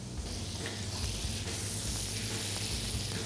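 Butter and a little oil foaming and sizzling on a hot grill plate, a steady close frying hiss that runs without a break, with no talk over it.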